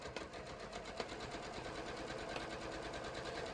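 A sewing machine quilting at a 3.5 stitch length runs in a circle around a batik floppy hat brim, giving a steady, close, continuous mechanical whir with a fine rapid stitching pulse throughout.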